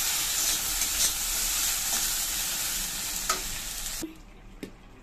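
Chorchori, a mixed vegetable curry, cooks in a pan with a steady close sizzle and occasional stirring clicks, then drops abruptly to a quiet simmer near the end, no talking.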